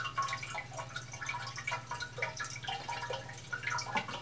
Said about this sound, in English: So now you hear the backfalling water.